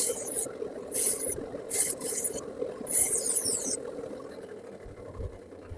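A bandsaw with its table tilted to 45 degrees trims the corners off a wood blank, giving rough, rasping cutting bursts at irregular intervals over a low machine hum, then easing off.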